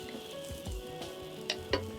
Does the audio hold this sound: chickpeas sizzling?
yes